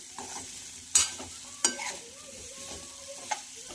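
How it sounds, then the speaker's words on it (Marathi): Red pumpkin pieces are mixed into a frying masala, with a steady low sizzle under a few distinct spoon knocks and scrapes against the pan, close by. "डांगर घालून झालेला आहे। तर मिक्स करून घेणार आहोत छानपैकी।"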